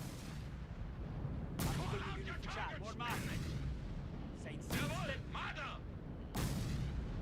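Autocannon bursts and booming impacts from a Marder in Company of Heroes 3, several sharp broadband blasts spaced a second or two apart over a low rumbling battle bed, with a voice talking now and then.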